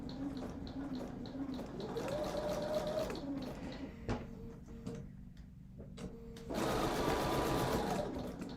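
Domestic sewing machine stitching a flower garden quilt, running in steady bursts with a brief pause in the middle before resuming louder, close by with no talk.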